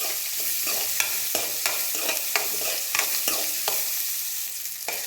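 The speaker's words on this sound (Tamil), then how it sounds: "நல்லா வதக்கணும்." Chopped onions and curry leaves sautéing in a pan, a steady close sizzle broken by repeated scraping stirs of the spoon at a regular pace, with no talking.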